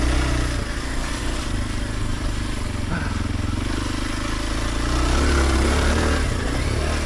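A Kawasaki KLX 230 dirt bike riding a trail, its engine droning loud and steady throughout, close by, with rushing wind and a slight rise in revs near the end.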